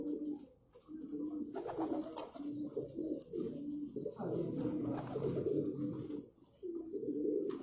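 Pigeons cooing in a loft in Rawalpindi, with soft repeated throaty coos overlapping continuously at close range.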